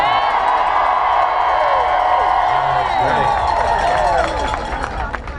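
A large rally crowd of public school teachers cheers loudly, a dense wash of shouts, whoops and scattered clapping that carries on steadily before easing slightly at the end.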